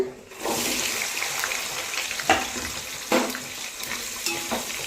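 Three large onions fry in a pan for mutton biryani, a loud continuous sizzle broken by a few sharp clacks as a spoon stirs them.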